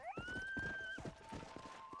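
A horse in the video game Red Dead Redemption gives a rising whinny that holds and then fades, with hoof clip-clops thudding underneath throughout.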